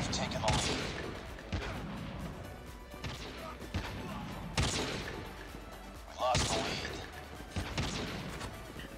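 Sniper rifle shots in Call of Duty Mobile ring out as heavy booming cracks spaced a second or two apart, about six of them, mixed with impacts and game noise; players talk faintly around them.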